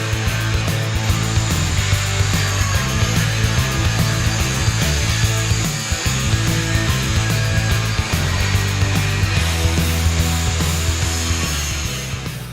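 A CGW 3-in-1 fiberglass-reinforced abrasive wheel on an angle grinder cuts at 90 degrees, giving a steady, loud, continuous whine and grinding hum close by, without pause and with no talk.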